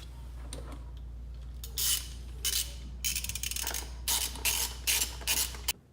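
A ratchet snugs 10mm nuts back onto the cover of a 2017-2018 Ford F150 Raptor after a spark plug change, giving bursts of rapid clicking over a low steady hum, close up and without speech.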